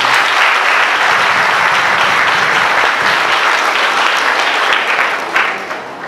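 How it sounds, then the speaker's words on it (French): Sustained applause from a large congregation at a celebration marking the fiftieth anniversary of the diocese of Jérémie, loud and steady for about six seconds with a brief swell near the end. "Je vous applaudis."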